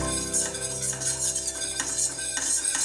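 Refined flour (maida) being stirred and sautéed in a pan for a béchamel sauce, with steady scraping and clinking of a utensil against the pan and a faint sizzle underneath, close and continuous.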